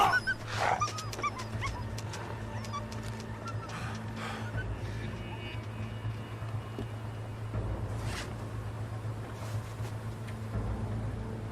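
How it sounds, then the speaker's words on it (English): Dog or wolf sounds in the survival game The Long Dark, a few short distant barks and whimpers over a steady low engine-like drone, with brief broadband bursts partway through. "Now I've just seen the dog run round the back of the house over there."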